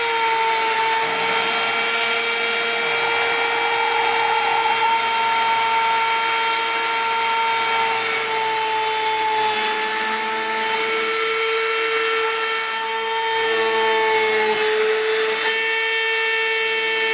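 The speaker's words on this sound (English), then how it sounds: "we're going to be drilling holes into the material with this Dremel bit" A small Dremel bit, size 63 or 57, drills holes into PCB material, giving a steady high-pitched motor whine with tonal overtones that holds evenly throughout, close and continuous with no talking.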